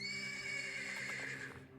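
A horse neighing in the video game Black Book, a single loud, sustained whinny close up that wavers and fades over nearly two seconds, with no talking.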